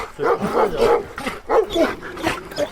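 A Rottweiler barks repeatedly in quick, uneven bursts, close and fairly loud, with a few yelping notes mixed in.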